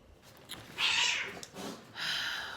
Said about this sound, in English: Sorry for the grumpy cats.